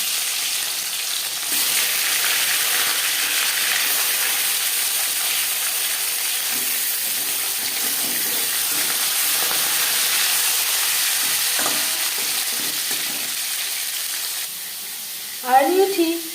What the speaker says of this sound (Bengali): 4 চামচ রিফাইন্ড অয়েল গরম করে নেওয়ার পর দিয়ে দেবো লবণ হলুদ মেখে রাখা মাছ।